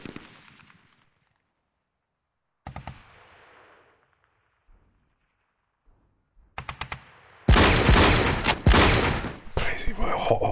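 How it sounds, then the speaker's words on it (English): Anti-tank rifle fire and explosions in the WW2 tactical game Tigers on the Hunt: scattered sharp reports with quiet gaps, then a loud dense barrage of blasts near the end; a voice talks faintly at times. "And it was an AT rifle firing."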